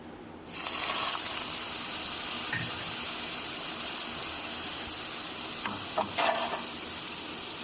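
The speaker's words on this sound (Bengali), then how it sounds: "মশলা হয়ে যাওয়ার পর কড়াইতে গরম তেলে মশলাটা কষিয়ে নেব।" A spice paste of tomato, melon seeds, cashew and raisins hits hot oil in a wok (kadai) with a sudden loud sizzle, then fries steadily with a continuous hiss and occasional stirring scrapes.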